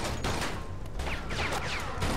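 Gunfire in the Mafia 2 video game during a jewelry store shootout, a quick run of sharp shots with fainter clicks and mechanical clatter, moderately loud over a steady background.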